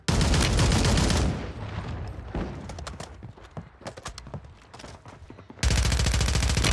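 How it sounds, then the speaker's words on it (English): Rapid bursts of gunfire from an AMR-9 in Call of Duty on Rebirth Island, loud dense volleys at the start and end with sparser shots and game sounds between, with no one talking. "why am I using the AMR-9 to shoot this guy?"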